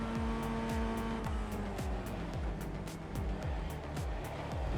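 An FF1600 Formula Ford race car in iRacing, its engine note climbing in repeated quick sweeps through the gears, loud and continuous under a steady background roar.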